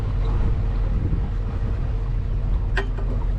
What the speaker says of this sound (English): I'm sailing. Well, actually I'm on engine.